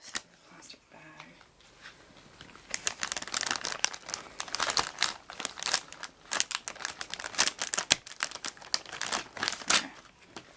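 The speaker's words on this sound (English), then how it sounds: "I'm going to try and get all this through the plastic bag." Plastic bag crinkles and rustles steadily as it is handled while a battery-powered device is taken apart, close and fairly quiet, with irregular crackling bursts continuing for several seconds.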